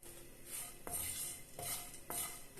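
A utensil scrapes and stirs dry chilli, pepper, coriander and cumin roasting in a cast iron tawa. The strokes are rhythmic and metallic, come about every half second, and sound close and fairly loud.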